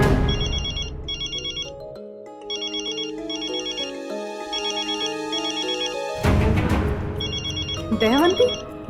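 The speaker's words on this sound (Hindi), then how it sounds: "दयावंती ये क्यों फोन कर रही है?" A phone ringtone plays a repeating electronic melody of bright chiming notes, with a brief pause and rustling noise before it resumes.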